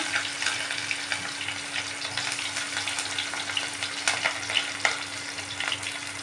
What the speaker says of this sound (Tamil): எல்லா ஸ்பைசஸ் போட்டாச்சு இந்த ஸ்பைசஸ் எல்லாம் வெந்த உடனே வெங்காயம் ஆட் பண்ணிக்கலாம்